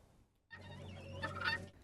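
Backyard chickens kept for eggs make a short burst of clucking and gobble-like calls, faint and close, after a moment of near silence.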